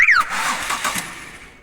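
A 2006 Ford Escape with a 3.0 engine cranks in a no-start condition, a brief rising chirp followed by a short, close, loud grinding turnover that fades within two seconds.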